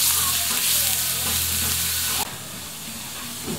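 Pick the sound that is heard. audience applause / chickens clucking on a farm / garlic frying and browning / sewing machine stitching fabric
garlic frying and browning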